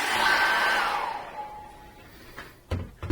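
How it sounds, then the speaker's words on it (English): A hair dryer blows loud and steady over freshly applied acrylic paint, its whooshing airflow and faint whine fading as it winds down, followed by a few brief knocks and handling bumps at the end. "What I'm going to do is I'm going to dry that very quickly with a hairdryer."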